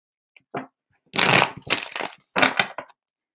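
A deck of reading cards is shuffled in several quick riffling bursts, crisp and close with short pauses between them, and no talking.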